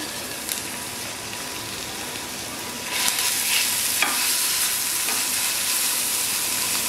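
Spice masala with red chili powder, turmeric and salt is stir-fried for Hyderabadi chicken biryani, giving a steady close sizzle that grows louder partway through, with a few light utensil clinks and no talking.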